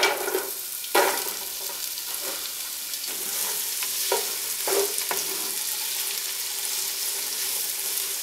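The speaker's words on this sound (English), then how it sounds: "Then you're going to add the garlic and the onions and start stirring." Garlic and onions sizzle in olive oil for vegetarian chili, a continuous close frying hiss broken by several short stirring scrapes against the pot, with no voices.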